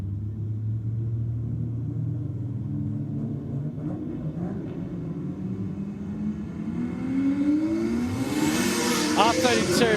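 Race cars accelerate at a nighttime roll racing event, a Datsun against a Holden Commodore, with a low engine rumble building into louder revving and whine toward the end, under a commentator's voice.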